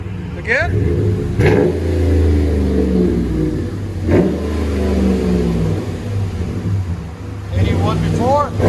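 A 5.7L Hemi V8 in a 2019 RAM 1500 with a Flowmaster 40 Series dual exhaust throbs loudly up close, pushed through a couple of quick revs over a steady burbling idle, with short bursts of someone talking at the start and end.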